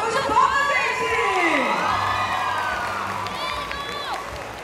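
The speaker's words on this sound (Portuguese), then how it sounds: "Uma salva de palmas, gente!" A crowd at a cosplay award ceremony cheers and whoops, with high excited shouts and children's voices rising over a background of clapping, loud and close throughout.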